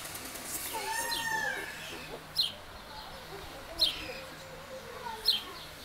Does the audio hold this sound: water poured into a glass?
no